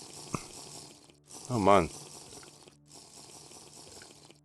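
Drinking water in the block-survival game TerraFirmaCraft, a short burst of gurgling, slurping liquid sound lasting about half a second, clearly louder than the quiet background, with a brief spoken exclamation just before it.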